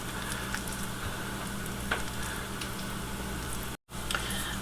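Potatoes frying in oil for copycat Bo-Rounds give a steady, close sizzle that holds throughout, broken by a brief drop to near silence before the crackle resumes.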